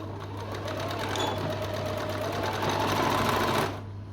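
A sewing machine runs steadily and close by, stitching the inside leg seam of a little girl's pyjamas. Its fast, even whirring lasts about three and a half seconds and then stops abruptly.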